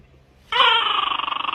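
A dog lets out a sudden, high, drawn-out whining whimper that wavers in pulses and lasts about a second after a brief quiet moment, close and fairly loud.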